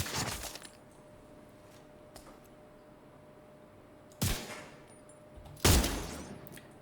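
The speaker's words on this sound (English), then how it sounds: "So I'm going to go ahead and shoot a headshot after I kill this guy." Sniper rifle shots in The Division 2, a looter-shooter game: two loud, sharp cracks roughly a second and a half apart, each followed by a brief rumbling tail, with an earlier burst at the start over a low ambient bed.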